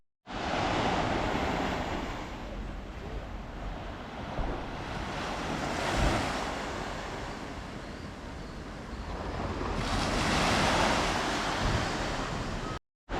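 Surf rolls onto the beach at Porto Cristo, Mallorca, broad swelling washes of breaking waves rising and falling in two or three surges, loud and close with wind buffeting the microphone.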